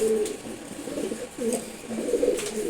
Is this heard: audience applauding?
no